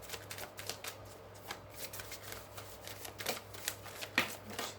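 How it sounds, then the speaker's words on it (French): Tarot cards are shuffled in a quick, crisp riffle of close papery flicks, with a few cards slapping down near the end. The sound is soft and intimate, with no voices. "J'ai plein de cartes qui tombent, il y en a trop pour le lundi."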